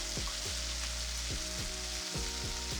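Corn and black beans sizzle in a frying pan with a steady, close crackling hiss, overlaid by a low repeating electronic hum.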